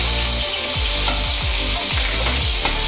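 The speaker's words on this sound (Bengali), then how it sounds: "কাজু কিশমিশটা এবারে এই তেলেতেই ভেজে নেবো।" Cashews and raisins fry in hot oil left over from cooking vegetables, giving a loud continuous sizzle broken by regular scraping strokes of a spatula stirring the pan.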